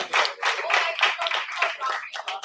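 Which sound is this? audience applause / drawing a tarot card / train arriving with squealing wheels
audience applause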